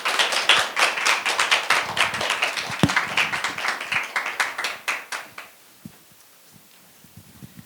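Church congregation clapping to welcome a pastor to the front, a lively burst of many hands with sharp individual claps that thins out and fades after about five seconds, leaving a few scattered taps.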